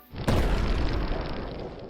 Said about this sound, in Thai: ท่าที่สองจะเป็นหมัดมังกรนะครับ